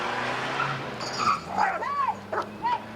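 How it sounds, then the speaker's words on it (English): Several dogs bark and yelp in short bursts at a distance, over a steady background hum. "Lots of dogs here and there."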